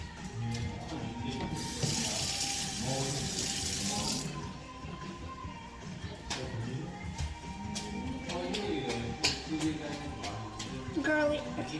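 Tap water runs and splashes over a scooper being rinsed in a sink, a bright rushing burst early on, then quieter trickling with clinks and handling knocks, while people talk nearby.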